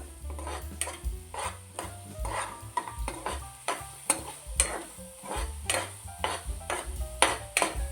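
Kheer ingredients, including khoa, are roasted in ghee over a low flame, with a gentle sizzle beneath a rapid series of metallic spoon scrapes and taps against the pan, close by, no talking.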